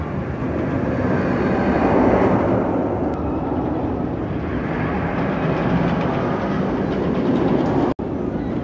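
The Goliath roller coaster train at Six Flags Magic Mountain rolls along its track, a sustained loud rumble and clatter that swells and eases over several seconds, with a short cutout near the end.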